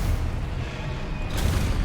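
Confringo fire spell explosion in the video game Hogwarts Legacy, a brief dull boom with a rumbling low-end burst and noisy crackle, loud and close, with no voices.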